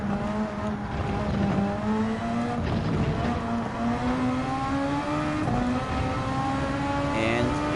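A Super Formula race car in Gran Turismo 7 drives a lap at Michelin Raceway Road Atlanta, its engine note climbing steadily through the gears with brief shifts, loud and continuous throughout.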